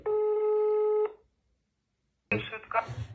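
A telephone dial or line tone sounds steadily for about a second while calling the ambulance number 103 in Ukraine, then after a pause a voice begins speaking.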